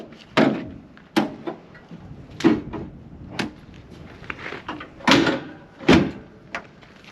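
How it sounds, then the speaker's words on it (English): Several sharp thuds spaced a second or so apart, each a solid slam of the bonnet of a Sunbeam Talbot 90 Mk III being shut close by, with quiet rustling between. "let's put the bonnet down first"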